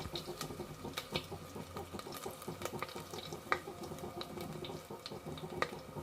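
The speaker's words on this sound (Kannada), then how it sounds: "ಆನಂತರ ಬೆಳ್ಳುಳ್ಳಿ ಹಾಗೆಯೇ ಕರಿಬೇವು ಹಾಕಿ ಸ್ವಲ್ಪ ಫ್ರೈ ಮಾಡಿಕೊಳ್ಬೇಕು" Garlic and curry leaves frying in a pan give a faint, steady sizzle, with soft scattered clicks and scrapes from stirring throughout.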